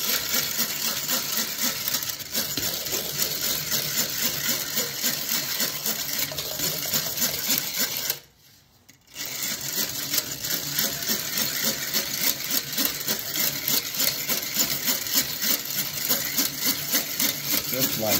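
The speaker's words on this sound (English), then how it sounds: "I'm going to go ahead and beat these up. And you want to get them so that they are really" Electric hand mixer beating egg whites until frothy for Brunswick jelly cakes, a steady whirring drone running almost continuously with one brief pause partway through, close and fairly loud.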